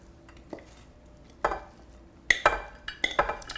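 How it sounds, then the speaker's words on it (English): Sticky granola bar mixture is scooped from a bowl into a pan, a few soft scrapes and clinks of a utensil against the dish, sporadic and close, with quiet pauses between. "can you scoop it down into the pan?"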